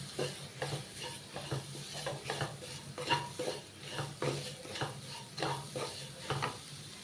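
Grated coconut and sugar mixed together in a bowl for coconut laddu, giving steady, close scraping and stirring strokes in an uneven rhythm, with no talk.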